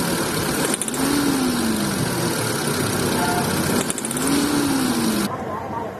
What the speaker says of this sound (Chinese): 发动机加油这里有个响声